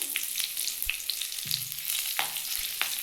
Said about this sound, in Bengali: এবার এই তেলের মধ্যে আমি একটু সাদা জিরে ফোড়ন দেবো আর একটা কাঁচা লঙ্কা দুভাগ করে দিয়ে দিলাম